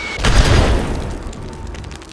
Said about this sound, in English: why you have to resort to using an airstrike?